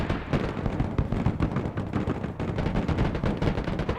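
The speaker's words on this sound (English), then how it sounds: "Our Typhoon's laying down some suppressive fire." A Typhoon armoured vehicle in the war game Broken Arrow lays down suppressive fire, a dense, steady run of heavy gunshots and thudding impacts, loud and close with no speech over it.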